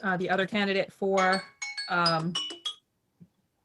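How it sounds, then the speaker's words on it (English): A chime-like bell from a Zoom meeting's three-minute timer rings out clearly alongside someone speaking. "that sound was the 3-minute bell"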